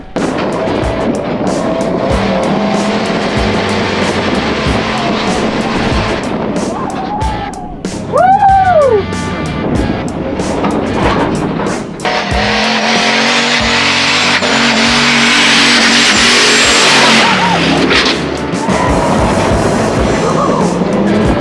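A limo engine revving hard while driving, loud continuous roar with rising and falling pitch, rattling and wind noise, a brief high squeal, then a strained surge near the end; some voices may be faintly underneath.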